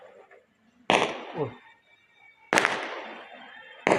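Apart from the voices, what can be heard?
firecrackers bursting at a wedding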